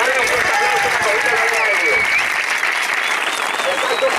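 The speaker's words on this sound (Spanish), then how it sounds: "Dale un fuerte aplauso" Steady crowd applause at a citizens' march to El Retín in Barbate, Cádiz, a dense continuous wash of clapping and outdoor crowd noise with whistles and voices mixed in, loud and sustained throughout.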